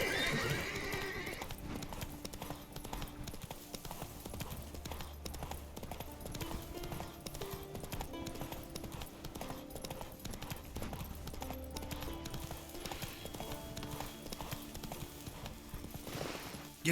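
A horse's hooves clip-clop steadily in The Witcher 3 video game, fairly close under game music and ambience, with a whinny or snort near the start.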